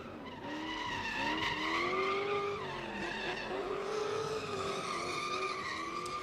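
A Nissan 350Z drifts in a drift pit, its engine roaring with rising and falling pitch over steady, loud tire squeal that carries through the whole stretch.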